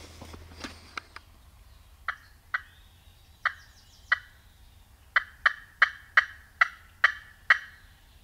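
A wild turkey gobbles repeatedly in the distance from a field, a series of short sharp calls that come faster toward the end, with quiet surroundings between.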